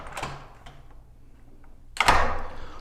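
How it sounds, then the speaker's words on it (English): Side entry door on an exposed hinge system swinging shut, a soft initial knock followed by a firm solid latch click and thud, close and indoors. "That door closes very nicely."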